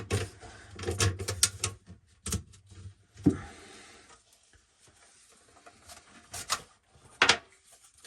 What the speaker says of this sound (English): Here's our P-trap here. We're just loosening up.